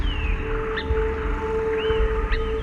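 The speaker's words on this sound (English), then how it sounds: "Also, there's bird sounds." Ambient birdsong in the video game Starfield: two brief chirping calls rise over a steady droning hum and low rumble, moderately quiet and with no talking.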